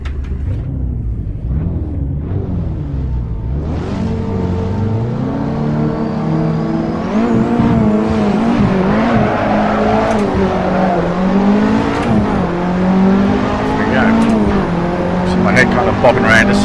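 A racing car driven in Assetto Corsa, its engine droning close and loud, then revving and climbing in pitch through repeated gear changes as it picks up speed.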